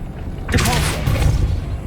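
A Depulso spell cast in Hogwarts Legacy lands as a sudden loud whooshing burst with a low booming thump, then a short rumbling tail.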